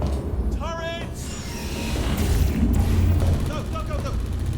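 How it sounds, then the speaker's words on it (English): Rapid bursts of turret gunfire and heavy booms fill a busy battle scene in the video game Portal 2, with shouting voices layered over the shooting. "Turrets!"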